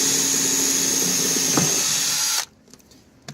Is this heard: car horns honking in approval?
no